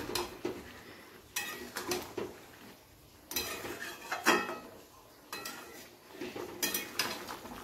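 Salt being mixed into raw chicken for lemon chicken with a utensil in a bowl, giving irregular scraping and clinking bursts close by, in several clusters with short pauses between.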